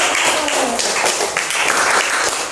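A classroom group applauding, a dense, continuous patter of many hands clapping at once for a few seconds, without voices over it.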